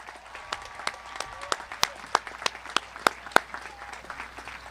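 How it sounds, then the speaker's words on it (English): Applause from a graduation ceremony crowd for the high school band: scattered, distinct claps rising and falling over a softer bed of clapping, moderately distant and with no speech. "Please continue that applause for our amazing high school band"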